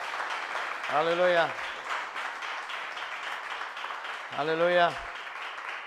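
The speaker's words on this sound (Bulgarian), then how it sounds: "Дай ръкопляскане на Господа" A church congregation claps steadily throughout at moderate loudness, while a voice rings out twice above the applause.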